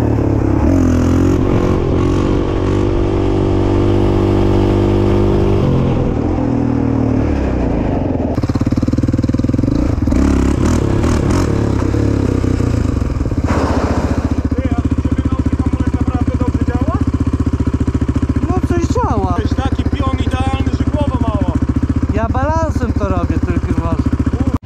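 A motorcycle engine runs steadily and loud, revving up and down throughout, with people talking intermittently over it.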